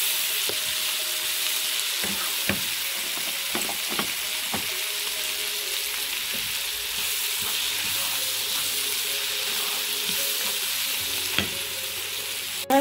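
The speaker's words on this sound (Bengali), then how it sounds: "আর চিকেনটা অলরেডি রান্না করা আছে, তার সাথে থাকা যে সিজন ছিল সেটা দিয়ে করার জন্য এটা ফ্রাই করে নিচ্ছি" Cooked chicken with sweet corn fries in a pan for samosa filling, a steady broadband sizzle running throughout with scattered soft scrapes and taps of a spatula, close and even, no voices.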